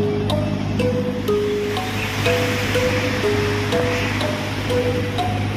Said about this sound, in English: Raining heavily already.